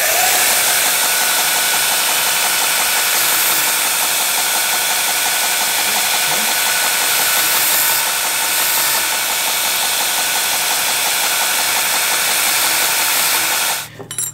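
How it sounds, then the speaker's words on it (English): A belt grinder runs at low speed, grinding the heads off steel rivets in a pocketknife handle. Its loud, steady abrasive whir and hiss carry on unbroken for about fourteen seconds before cutting off abruptly at the end. "I just use a belt grinder to take the heads off of all these rivets"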